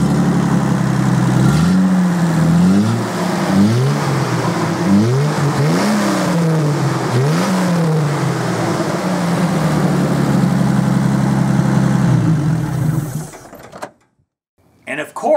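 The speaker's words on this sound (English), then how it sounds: "Let's hear this little Nissan start." A 1986 Nissan 300ZX Turbo cranks and catches, its engine revving a few times in rising and falling swells before settling to a steady idle, loud and close, then cutting off abruptly near the end.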